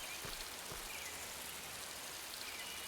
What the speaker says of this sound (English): I found the rain.